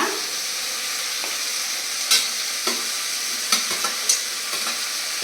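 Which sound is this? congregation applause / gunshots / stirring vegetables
stirring vegetables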